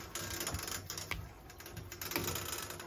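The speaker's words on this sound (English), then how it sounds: "Check valves rattling around." Check valves in a gas heating system rattle with light, irregular metallic ticks and clicks, fairly quiet and close, with a few sharper taps standing out and no talking.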